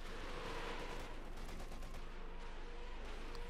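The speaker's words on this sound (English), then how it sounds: "We've got a Stuka barrage off somewhere." A Stuka rocket barrage in Company of Heroes 2, heard as a distant, faint rumble of rapid firing and blasts spread across a steady battlefield din.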